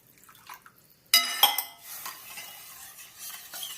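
After a quiet clink, about two glasses of water rush into a hot pan of manchow soup with a loud hiss, then settle into bubbling sizzle with light utensil knocks.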